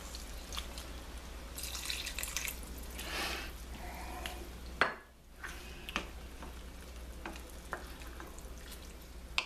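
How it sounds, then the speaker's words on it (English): Shiitake mushroom risotto is stirred in a pot as more liquid is added, giving soft, steady scraping and faint bubbling close by, with a brief clink midway. "So we just keep on stirring and adding a little more liquid."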